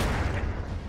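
A single gunshot in the video game Darkest Dungeon, a close, heavy blast with a booming low end that fills the whole second and decays without any talk.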